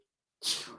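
A single sharp human sneeze bursts out loud and close after a stretch of near silence, its breathy spray trailing off quickly.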